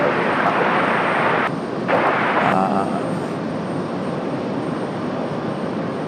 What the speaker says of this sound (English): Up next, Delta 2782, 737-800, coming in from Boston, Massachusetts.